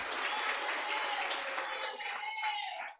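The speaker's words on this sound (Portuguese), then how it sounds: "você pode aplaudir o Senhor" A Baptist church congregation applauds during a service, sustained dense clapping with a faint sung or spoken tone running beneath it, tapering off at the end.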